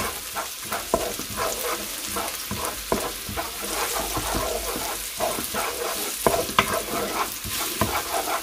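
Spicy chili peppers sizzle and crackle in hot oil in a pan while being stirred. The frying hiss is steady and close, and the spoon scrapes and taps at irregular intervals.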